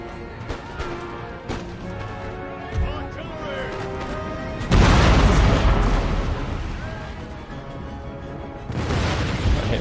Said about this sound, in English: At least it looks like all of these cannons are firing, for the most part.